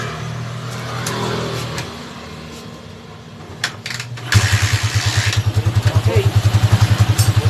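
A TMX155 motorcycle with a hard-starting-when-cold fault fires up after a stretch of low background noise and a brief spoken word, then settles into a steady, rapid, close thumping idle.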